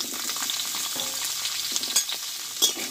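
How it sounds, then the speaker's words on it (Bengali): Cut potatoes hit hot oil with spiced tempering in a pan, giving a loud, dense sizzle that holds steady, with a few sharper crackles and pops close by and no voices. "এবার কেটে ধুয়ে রাখা আলুগুলোকে আমি দিয়ে দেবো"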